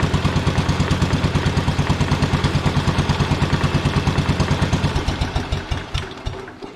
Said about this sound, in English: So now at least I got 2 running tractors